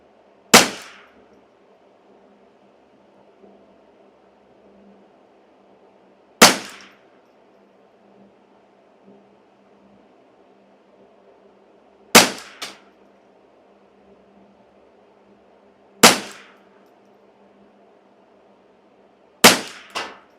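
Five sharp, loud gunshots from a custom Ruger 10/22 rifle, spaced roughly every three to six seconds, each a crisp crack with a short ringing tail against a quiet background.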